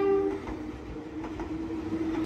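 An Enoden train runs in Kamakura, Japan, rumbling steadily and fairly close, with a sustained horn-like tone near the start and again toward the end.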